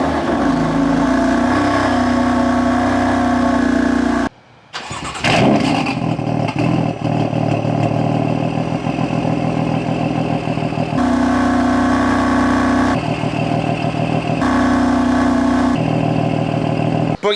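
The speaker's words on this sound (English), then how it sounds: "let me turn this white one right here on so you guys can hear the cold start." A car fitted with an Active AutoWerke single midpipe exhaust is cold started: a steady near idle drops out briefly, then the engine cranks and catches with a loud rising roar before settling into a high, slightly uneven idle that continues alone.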